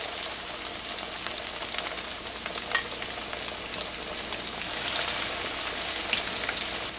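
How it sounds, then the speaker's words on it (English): Breaded chicken breasts frying in hot oil in a pan on the stove, a dense continuous crackling sizzle with fine popping spatters, close and steady throughout, swelling slightly louder toward the end, no voices. "Cook the breasts in the hot oil until they're golden brown and delicious."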